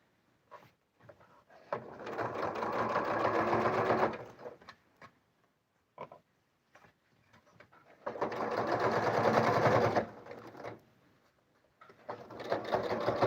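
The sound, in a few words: sewing machine stitching a straight quilting topstitch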